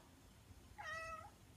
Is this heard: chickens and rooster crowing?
no